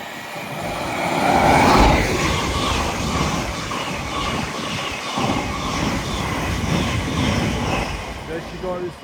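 A Class 700 electric multiple unit passes through Alexandra Palace on the East Coast Main Line, bound from Peterborough to Horsham: a loud, close, broadband rushing roar with wheel and rail noise that holds steady throughout.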